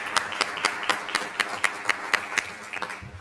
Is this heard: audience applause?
yes